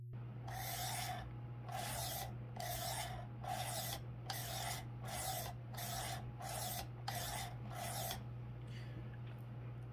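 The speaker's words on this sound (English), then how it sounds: "when you take a knife across a stone or across a diamond, it has that sound" About ten even, rasping strokes come as a knife is drawn across a 320 grit abrasive on a Worksharp Precision Adjust sharpener. The strokes are close and quiet, spaced regularly over a faint steady hum, with no talk.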